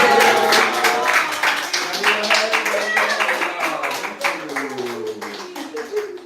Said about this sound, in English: Oh, everyone clap.